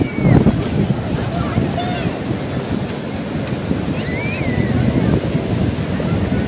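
Rough, steady surf roars and washes close by on the beach at Digha, with gusts of wind buffeting the microphone and a few faint shouts of excitement.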